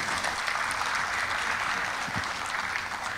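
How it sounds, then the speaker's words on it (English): A full room at an international research forum applauds, a dense, even wash of clapping that stays loud and unbroken throughout. "May I have a big round of applause for all of us."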